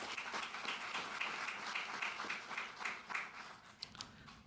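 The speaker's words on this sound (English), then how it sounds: "Again, one round of applause for Astrolab." Audience clapping at a NASA news conference on a moon base project, fairly quiet, with individual claps audible in a loose, uneven rhythm that thins out toward the end.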